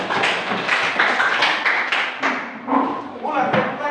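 A group of students in a classroom claps hands on cue, a loud burst of many overlapping claps with thuds mixed in, while voices talk over it.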